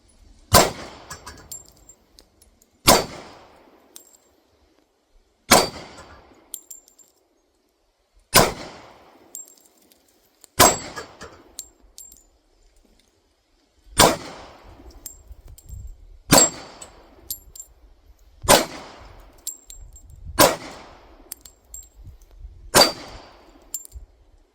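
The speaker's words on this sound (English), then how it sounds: "we've both shot one mag of 40 Smith & Wesson" A SIG P229 fires .40 S&W rounds at steel targets outdoors, sounding as about nine loud, sharp shots spaced a few seconds apart, each followed by a metallic ring from the struck steel.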